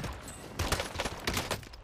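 Video game gunfire on Rebirth Island: a short, faint burst of rapid automatic shots, four or five quick cracks in about a second, with distant ambient noise under them.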